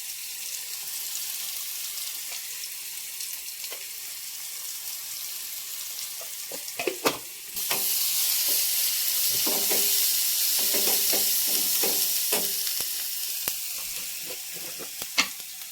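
Kolim (tiny shrimp) frying with spices in a pan, giving a continuous close sizzle that swells louder midway, with scattered clicks and scrapes from stirring and no talk.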